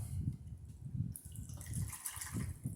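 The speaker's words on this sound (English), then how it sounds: "rinsing the solution back off." Water sloshing and splashing as the roots of a Philodendron Golden Goddess or Rhaphidophora Tetrasperma are dipped and rinsed in a container, a close, steady wet churn with brief surges and a brighter splash partway through.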